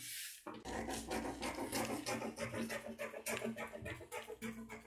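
Scissors cutting out a paper sewing pattern for a shorts and kimono set, leaving a one-centimeter margin, heard as steady, close rasping snips that repeat rhythmically for several seconds with no talk.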